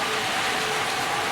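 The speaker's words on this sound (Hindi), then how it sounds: "अभी भी बारिश यहाँ हो ही रही है।" Steady rain falls outdoors in the evening as a dense, even hiss that holds close and unbroken for the whole stretch, with no voices over it.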